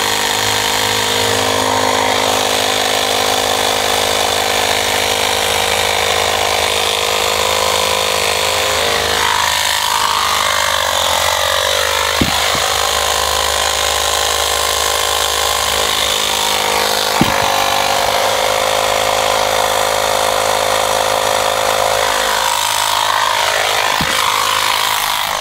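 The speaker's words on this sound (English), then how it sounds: "these pumps don't provide any surge pressure that will help to get that tire started onto the bead" An air pump runs continuously up close, a loud steady mechanical buzz with a few brief clicks, while inflating the rear tire of a BMW R1200GS motorcycle to seat the bead.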